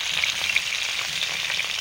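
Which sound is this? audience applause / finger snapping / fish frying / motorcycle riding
fish frying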